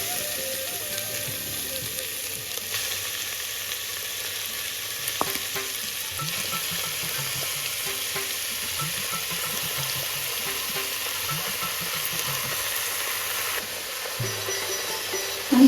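Mutton pieces sautéing in a pan for soup give a steady low sizzle with recurring scrapes and stirring knocks, close and continuous, with no talking.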